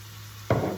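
Ground beef and onions sautéing in a pan for a baked creamy potato dish, a quiet stretch, then a sudden burst of sizzling and stirring close by in the second half.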